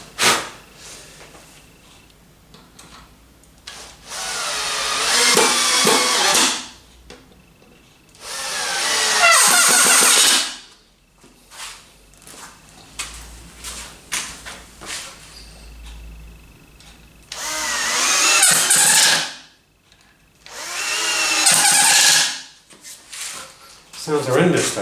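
A power drill drives long screws into a heavy wooden table frame in four loud, sustained whining bursts of several seconds each, separated by quiet pauses with occasional handling noise.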